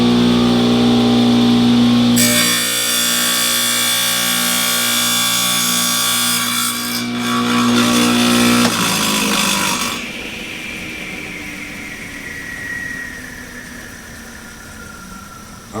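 Wet tile saw with a diamond blade cutting through a ceramic subway tile for a shower wall: a loud steady motor whine, then a sharper grinding cut for several seconds before the motor spins down and fades.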